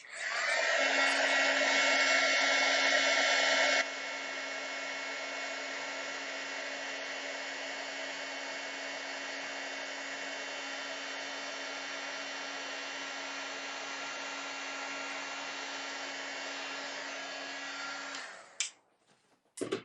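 A steady, loud blowing whir of a heat embossing gun runs continuously, louder for the first few seconds, then cuts off near the end with a couple of clicks.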